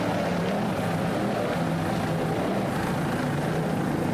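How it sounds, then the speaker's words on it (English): A race car engine roars continuously at high throttle during the Daytona 24-hour race, a loud steady drone with a slightly shifting pitch and no pauses. "Nice throttling there by Matt Rice."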